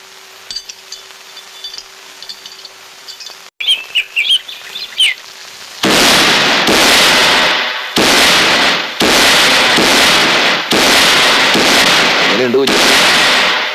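A rapid string of loud firecracker bursts crackles in long, dense volleys, following quieter chirps and clinks.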